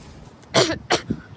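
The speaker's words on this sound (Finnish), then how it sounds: "kyllä mä sen yskäsen kuulin" A person coughs from behind a bush in rough outdoor country, two harsh close coughs followed by a softer throat-clearing grunt.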